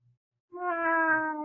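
A human voice imitates a cat with one drawn-out meow, close and clear after a moment of silence.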